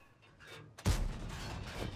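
A tank shell ricochets off a KV-4 in a tank video game, a sharp loud boom-like impact partway through, followed by a sustained rumbling engine and battle noise.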